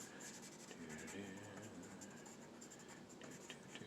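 Pencil shading across paper as a drawing is filled in, a continuous close scratchy rubbing that carries on steadily with no talk over it.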